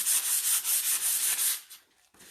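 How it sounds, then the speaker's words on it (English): A light abrasive scuff-sands painted tile in quick back-and-forth strokes, a close, bright rubbing rasp repeated rhythmically before trailing off into a brief pause and one last short stroke. "Now I'm going to scuff sand this just the same as I would in between painting any layers of paint on a furniture piece."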